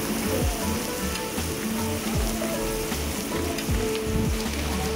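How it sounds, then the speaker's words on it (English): Steady rain falls outdoors in Lombok as a dense, even hiss with a constant low rumble beneath it. "it's raining. It's unpredictable."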